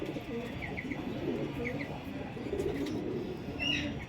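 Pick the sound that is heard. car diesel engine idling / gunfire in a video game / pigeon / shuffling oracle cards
pigeon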